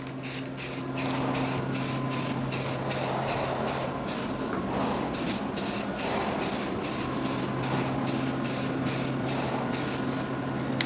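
Continuous hissing of a spray gun applying paint to motorcycle parts in steady passes, with short regular pulses over a constant compressor hum.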